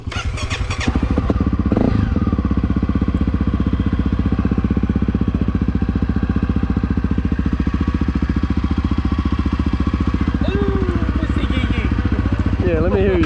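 A Honda CRF250F dirt bike set up with EJK fuel settings starts and then idles, a loud, steady low-pitched thumping putter heard close, with a brief revving blip early on and some talk underneath.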